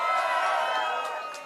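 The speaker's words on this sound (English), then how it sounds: "cheer for the ones that you liked best" Crowd cheering and whooping at an outdoor Hollywood Walk of Fame ceremony for Hall & Oates, a steady, dense roar fading slightly at the end.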